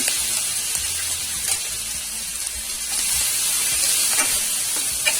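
Spice mix with turmeric, garlic and chilli frying in hot oil for a sorrel and mixed-vegetable curry, a constant close sizzle and hiss that swells slightly toward the end, with no talking.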